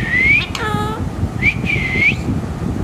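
A pet parrot calls out its own name in several different voices, giving a few bright whistled phrases that rise in pitch, plus one richer harmonic squawk, close up over steady background hiss.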